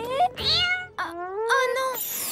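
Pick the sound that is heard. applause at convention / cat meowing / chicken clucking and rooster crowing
cat meowing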